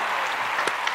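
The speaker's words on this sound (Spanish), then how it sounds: "¡Un aplauso!" Applause from a crowd, a steady dense wash of clapping for about a second with a couple of sharper claps standing out near the end.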